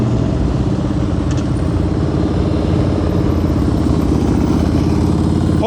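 A motorcycle putters steadily at low speed through slow-speed turning practice, its engine loud and close with a continuous throb and faint clatter, and no talk over it.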